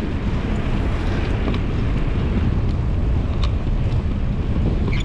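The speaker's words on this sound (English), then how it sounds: "It is really windy." Strong wind buffets the microphone of a bicycle rider in Santa Clarita, making a loud, continuous low rumble and roar with no talk.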